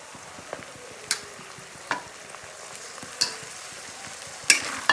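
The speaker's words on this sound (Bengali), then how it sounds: "টমেটোগুলোকেও ভেজে নেব একসঙ্গে।" Tomatoes fry with onions, garlic and ginger in a pan, a soft continuous sizzle broken by several crisp spatula clicks and scrapes at irregular intervals, growing a little louder toward the end.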